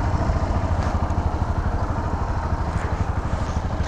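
A Yamaha XT motorcycle engine idles with a rapid, even thumping putter and light mechanical clatter, steady and close for several seconds with no talking.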